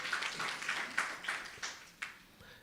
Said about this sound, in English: Please also welcome him with a round of applause.